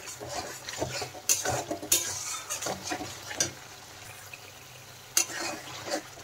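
Spice paste with ground black pepper is stir-fried in oil for a rohu fish curry. A soft sizzle runs under repeated scraping and clinking of a spatula against the pan, with sharp metallic knocks, and no voices.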